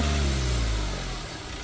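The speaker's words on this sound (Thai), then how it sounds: "ลองเร่งเครื่องเดย เร่งเลยกดเร่งขาไปเลย" A Ford Ranger MC pickup engine with a faulty oil temperature sensor revs loudly up close, a rough mid-pitched roar that holds briefly then eases slightly, the revs failing to climb.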